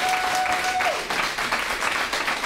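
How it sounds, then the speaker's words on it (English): Audience applause fills a school board meeting room, a steady wash of clapping from a crowd, sustained and fairly loud throughout without speech. "we'd ask that you keep your applause and cheers after each speaker to a minimum"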